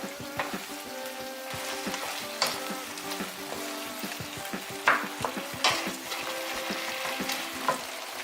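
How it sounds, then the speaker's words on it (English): Rice cake and fish cake simmering down in thick Korean tteokbokki sauce, heard as a soft steady bubbling sizzle with repeated light clicks and scrapes of stirring throughout. "Boil down until the sauce gets thick and sticky."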